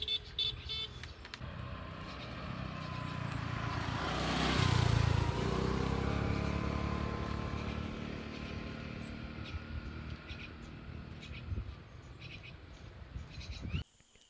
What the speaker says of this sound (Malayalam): വണ്ടിയുടെ സൗണ്ടാണ്